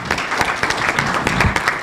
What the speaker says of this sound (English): Let's give her a better clap.